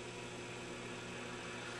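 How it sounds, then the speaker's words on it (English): Faint, steady hiss of white-noise static with a low hum underneath from an Admiral 24C16 television under restoration, unchanging from start to finish. "just normal white noise static"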